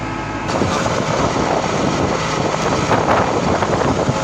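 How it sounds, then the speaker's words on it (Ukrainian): Strong wind buffets the microphone in a steady, roaring rush with gusty surges, loud and close throughout, in a wheat field during fertilizer spreading. "Зараз вітер сильний"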